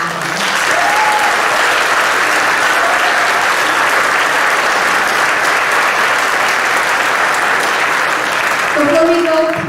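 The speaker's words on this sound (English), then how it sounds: "So I want to give one more round of applause for everyone who made this event happen." Sustained applause from an audience at the Great American Think Off 2018 final debate, thanking event staff and volunteers; dense, steady clapping fills the room at full strength throughout, with a few brief voices near the end.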